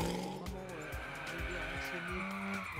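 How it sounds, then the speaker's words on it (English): Drift car sliding through linked bends at a French drift championship, tires squealing in repeated chirps over a revving engine that rises and falls rhythmically; loud and close. "here the drift is extremely precise, regulated, defined"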